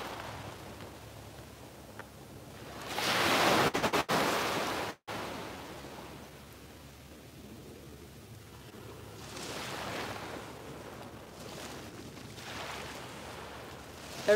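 Surf washing onto a beach: soft broadband swells of breaking waves rise and fade at a distance, louder around a few moments and otherwise a low steady rush, with no voices.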